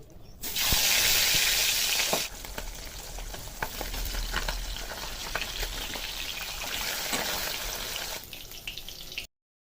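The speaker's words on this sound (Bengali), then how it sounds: "বাকি মাছগুলো এভাবে ভেজে নেব" More pabda fish going into hot refined oil, a loud burst of hissing sizzle at first that settles into steady close crackling frying, then stops abruptly.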